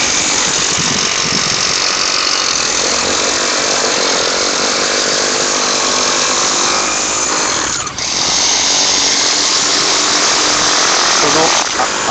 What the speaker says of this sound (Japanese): 入り口付近を決められた形にアスファルトを削っていきます。